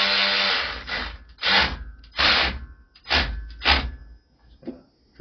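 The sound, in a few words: electric ratchet driving in a bolt on motorized bicycle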